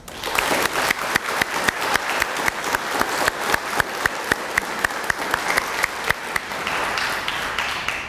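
Steady, sustained applause from an audience at a school honors ceremony, dense overlapping claps filling the whole stretch with no voices over it.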